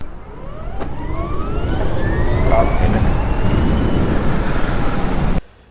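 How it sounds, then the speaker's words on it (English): BMW CE 04 electric scooter riding in stop-and-go traffic, its liquid-cooled motor and belt drive giving a steady futuristic whir with rising tonal sweeps over road and wind noise, close and continuous before cutting off. "it makes that futuristic, whirring sound because of the liquid cooled motor, and of course the belt drive"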